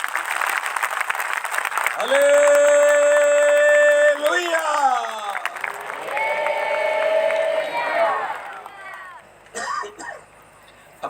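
A church congregation at a Christian gathering claps loudly in bursts, while a strong sustained voice shouts and sings over the noise and the clapping tails off near the end.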